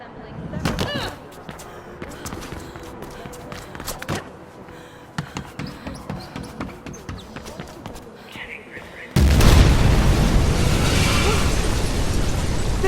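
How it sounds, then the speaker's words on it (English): A big explosion erupts in Mirror's Edge Catalyst, a sudden loud roaring burst that follows a stretch of thuds, slams and popping impacts and then holds as a sustained blast of noise. "Big explosion over here!"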